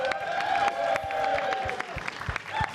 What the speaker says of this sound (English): a round of applause for one more Billy